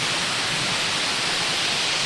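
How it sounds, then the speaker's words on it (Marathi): Muddy water rushing strongly past a dam makes a loud, steady broadband roar that fills the whole clip without a break, and no voices are heard. "पाणी वाहतं इकडे एकदम"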